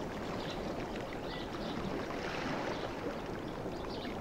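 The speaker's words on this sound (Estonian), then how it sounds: "Vesi loksub tasakesi vastu paadi külge." Water gently lapping against the side of a boat, a soft continuous wash and slosh heard alone at low level, steady throughout.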